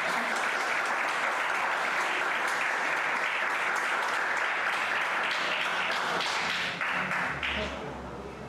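Church congregation applauding during a Portuguese-language service, dense sustained clapping filling the room for several seconds before tapering off at the end.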